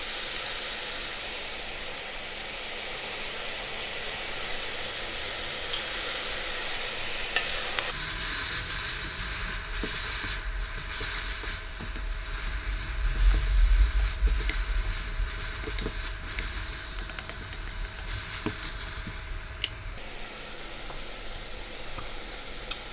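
Dashi is poured into kimpira gobō, burdock root sizzling in a pan, and the frying hiss jumps sharply louder and busier with bubbling and stirring for about twelve seconds, then settles back to a steady sizzle.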